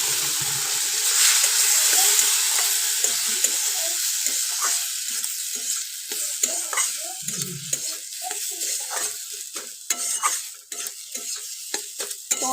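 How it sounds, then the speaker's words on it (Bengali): Water poured into semolina frying in a pan hisses and sizzles loudly at first, then settles into crackling bubbling with scattered scraping stir sounds, close up. "তো এবার এর মধ্যে দিয়ে দেবো জল, দিয়ে দেবো অল্প পরিমাণে।"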